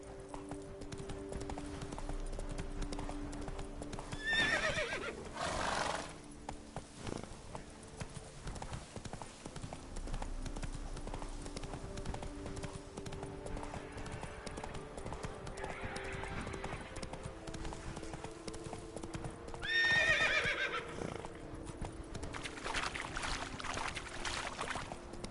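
A horse gallops in The Witcher III: Wild Hunt, Blood and Wine, with steady rhythmic hoofbeats throughout and two brief whinnies standing out partway through, no speech over it.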